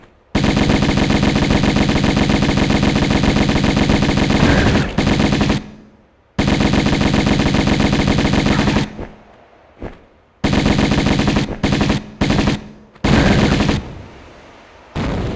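Uzi gunfire from the Tomb Raider Remastered video game, sounding as loud, rapid automatic bursts that run for several seconds at a time and are broken by short gaps of silence.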